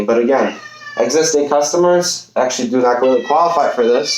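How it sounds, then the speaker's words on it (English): A pet cat meows repeatedly and loudly, its drawn-out cries overlapping someone talking steadily nearby. "Sorry for my cat."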